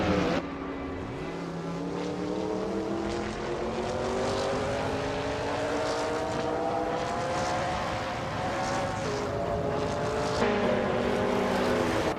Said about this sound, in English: We've got some exciting AI car races happening right now